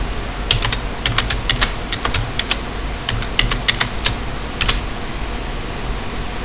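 Someone enters a password on a computer keyboard during Ubuntu 14.04 Linux software setup, giving bursts of close, crisp key clicks in an irregular rhythm over a steady low hum, with no talking.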